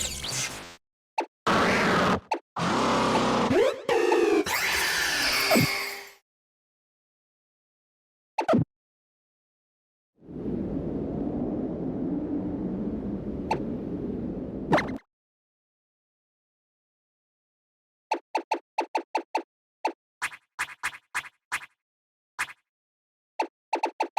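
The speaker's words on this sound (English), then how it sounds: "If we open up our menu and select any option, the noise completely disappears, leaving us with only the sounds of the menu." Menu sounds from Pokémon Sun and Moon play in silence: short bursts of bright clicks and blips, a sustained hum, then a run of quick, evenly spaced selection beeps, with no music or background noise.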